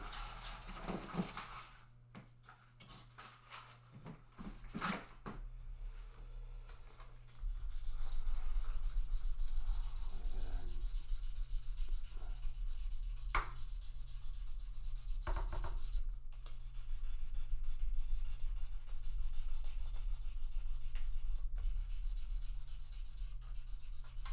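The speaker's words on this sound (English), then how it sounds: "And then last of the sandpaper is going to be 3000." Fine 3000 grit sandpaper rubs back and forth along guitar frets during a partial fret dressing, a steady close scratchy hiss that continues with little change for most of the stretch and comes through clearly.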